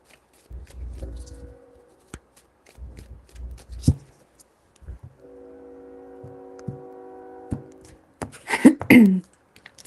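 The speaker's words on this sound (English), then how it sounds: "3 shuffles." Tarot deck shuffled in three bursts, crisp riffling near and clear, separated by short pauses, followed by a steadier rustle and a brief louder flurry at the end.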